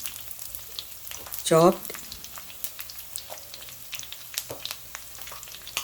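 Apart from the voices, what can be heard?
curry leaves, ginger and garlic sizzling in a pan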